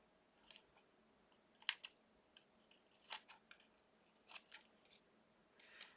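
Scissors rough-cut paper in a series of sharp, quiet snips at an uneven pace with short pauses between them, close and alone.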